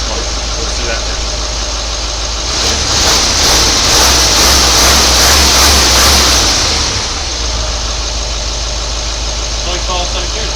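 A Range Rover L322 diesel idles steadily, then revs for about four seconds and settles back to idle. The engine is loud and close, with a rising rough roar.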